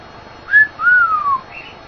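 A young fawn hand-fed cockatiel, about three months old, gives a short, clear whistle: a brief rising note followed by a longer sliding one, close and alone with no talk.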